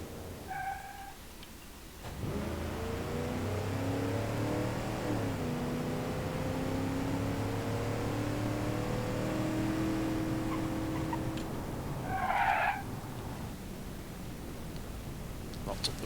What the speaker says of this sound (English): Locked up the brakes there on braking